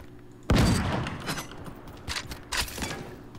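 Gunfire in the video game Realm Royale: a loud opening shot followed by several quicker, fainter bursts, with no talking over them.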